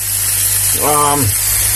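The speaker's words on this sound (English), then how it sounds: "I got some chicken in here, bro. It's sizzling away." Chicken with Cajun spice sizzling in a hot pan, a steady close frying hiss throughout, briefly overlapped by a short tonal voice-like sound in the middle.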